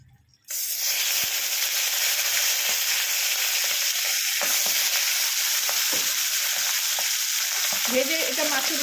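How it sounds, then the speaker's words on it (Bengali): Half a salted, turmeric-rubbed catla fish head fries in hot oil, a loud, steady sizzle that bursts in suddenly after a brief quiet start. The crackle continues unbroken, with occasional pops and faint stirring clinks. "মাছটা ভেজে নিলাম, একদম কড়া করে মাছটা ভাজলাম"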